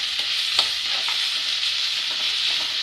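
Chopped vegetables, including carrot, stir-fry in a pan for a vegetable bread omelette, a constant close sizzle broken by a few light scrapes of stirring, with no one speaking.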